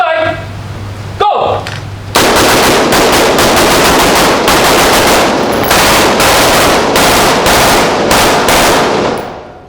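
Firearm fired at an outdoor shooting range, a few single shots followed by long full-auto bursts of rapid, loud, continuous gunfire that dominates the scene, with brief speech near the start.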